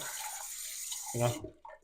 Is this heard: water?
yes